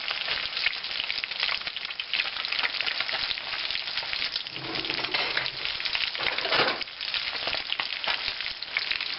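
An omelette with sun-dried tomatoes and cheese frying in a pan gives a continuous, even sizzle close by, with a slightly fuller hiss briefly near the end and no talking.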